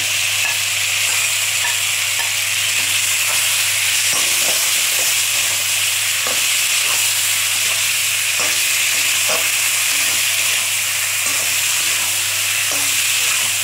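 A ginger and green chili paste fries in a pan as part of a Bengali fish curry with cauliflower and bori. A loud, continuous sizzle carries on throughout, with faint stirring scrapes now and then.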